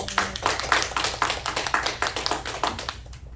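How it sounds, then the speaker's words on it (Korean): A church congregation applauds the choir in a sparse, rhythmic burst of claps in a hall, moderately loud, ending abruptly. "우리 찬양대에서 박수하겠습니다"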